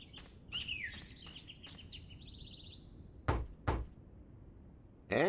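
Knocking on a solid oak door in the PC adventure game The Longest Journey: two heavy, distinct thuds near the middle, preceded by lighter taps and chirpy bird-like calls, with another sharp impact at the end.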